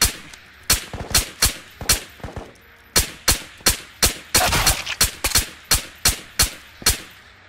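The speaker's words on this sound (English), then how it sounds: "There was gunshots." Gunfire from the video game Ghosts of Tabor at a military camp, loud sharp shots in an irregular series of about fifteen, some in quick pairs, standing alone with no talking.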